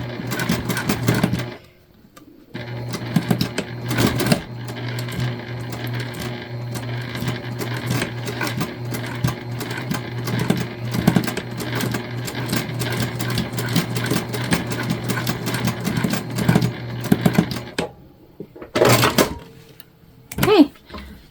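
A sewing machine stitches back and forth across a faux leather scrunchie to secure its elastic. The rapid mechanical clatter runs almost continuously, with short pauses near the start and end, and a voice talks alongside it.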